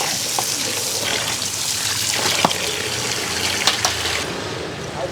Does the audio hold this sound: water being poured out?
yes